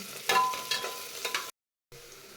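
Turmeric frying with onion and ginger-garlic paste in a pan, a soft close sizzle with a few scraping stirs, then a short break in sound before the frying resumes.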